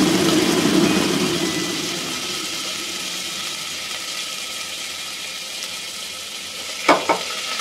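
Ground spices such as cumin and coriander are lightly fried and stirred in a pan for an onion- and garlic-free vegetarian dish. A steady close sizzle hisses throughout, with two quick utensil clinks near the end.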